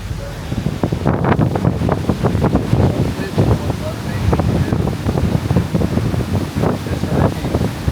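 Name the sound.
storm surge water rushing in during Hurricane Milton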